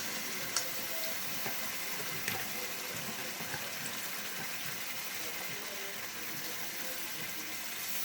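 Tamarind pulp stirred with cornflour poured into a hot pan while making a tamarind and date pickle, giving a steady, continuous sizzling hiss with a few small pops throughout.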